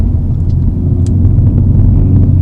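A Mercedes-AMG A45 out on the Jarama circuit in Spain, its engine a loud, steady low rumble heard from close by, with no voices.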